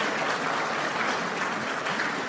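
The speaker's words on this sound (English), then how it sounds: "Applause for my study leave." Members of a church congregation applaud steadily for a pastor returning from study leave, dense even clapping from a room full of people that holds level throughout with no voices on top.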